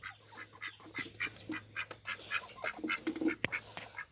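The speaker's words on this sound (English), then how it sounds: "So I had to put my ducks back in this pen here" Several domestic ducks penned together quack over and over in a busy, overlapping chatter, close by and fairly loud, with one or two sharper calls near the end.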